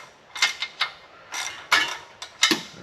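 A ratchet wrench works a transmission bolt loose during a transmission swap in a garage, giving several short, close bursts of ratcheting clicks separated by brief pauses.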